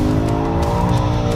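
A sports car driven hard around a racetrack, its engine holding a steady loud drone with tyres squealing across the whole stretch, close and continuous.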